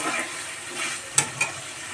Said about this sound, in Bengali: সবজিগুলো দিয়ে আমি নাড়াচাড়া করতে থাকব